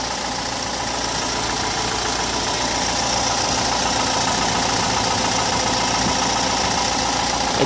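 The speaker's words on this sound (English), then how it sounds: "This is the engine from here." Hyundai Porter Super Wing truck engine idling with the hood open, a steady close mechanical drone with fine rhythmic ticking and vibration, constant in level and with no talk.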